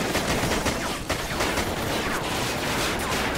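Rapid gunfire in the Call of Duty Ghosts campaign, a dense, continuous barrage of close shots filling the whole stretch with no pauses.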